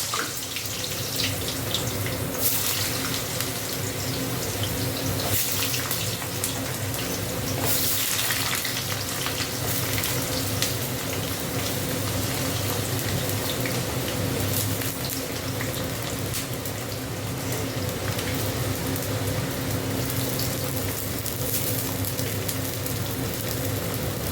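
Potatoes frying in oil in a pan for jhinge aloo posto, a constant dense sizzle that holds steady at close range throughout.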